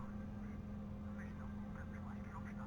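A steady jet engine drone from a FeelThere E195 airliner in the Prepar3D flight simulator, a constant low hum and broad rush holding evenly throughout.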